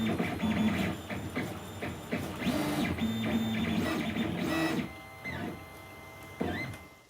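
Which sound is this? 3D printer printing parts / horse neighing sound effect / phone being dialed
3D printer printing parts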